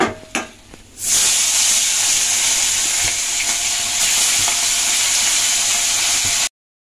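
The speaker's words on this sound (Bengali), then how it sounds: "এরকম ভাবেই বাদ বাকি মাছগুলো ভেজে নেব।" Koi fish fry in hot oil, giving a loud, even, continuous sizzle and hiss that starts after a brief quieter moment of handling and then runs alone before cutting off abruptly.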